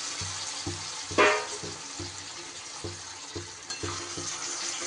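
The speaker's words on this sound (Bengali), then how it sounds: "এইবার আমি আস্তে আস্তে শাকটা দিয়ে দেব, শাক আর সবজি সহ।" Greens and vegetables tipped into a pan of fried spice paste for a vegetarian pui shak labra, stirred with soft scraping and a low sizzle, one louder clatter early on, with faint background music throughout.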